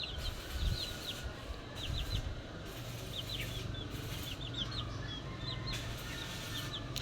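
Chickens kept inside a fenced enclosure give short, high chirps and peeps in scattered bursts. A low murmur of clucking and rustling sits underneath, at moderate distance, with no talking.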